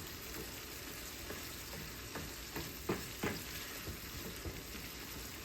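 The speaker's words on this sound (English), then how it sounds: "We'll keep on mixing it, that way they don't stick to the pan" Eggs frying in oil in a pan while being stirred, a steady low sizzle broken by scattered soft scraping knocks of the utensil, fairly quiet and close with no talking.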